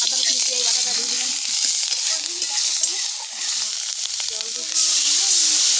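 Ginger, garlic and onion paste sizzles steadily in a pan with spinach and eggplant, a dense continuous hiss broken by occasional stirring scrapes, while someone speaks briefly over it.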